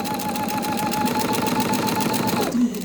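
A domestic sewing machine runs in one steady, continuous burst while stitching a straight quilting seam through cotton charm-square patches, close and even-paced before it stops abruptly near the end.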